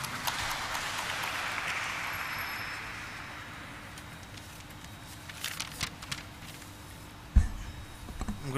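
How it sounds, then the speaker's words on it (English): Applause from a hotel company stock listing ceremony audience that fades from a moderate wash into sparse, scattered claps, ending with a sharp thump. "Can we have a huge round of applause for him?"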